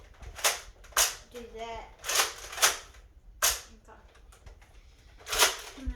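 A Nerf gun being shot, several sharp, separate pops spaced about a second apart and close up, with someone talking briefly between them.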